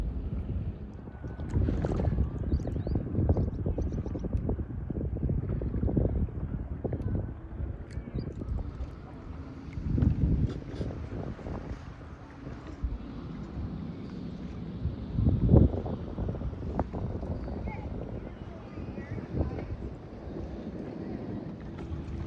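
A canoe is paddled on Shawnigan Lake, with low, uneven splashes and strokes under strong wind buffeting on the microphone, steady throughout with a few louder surges.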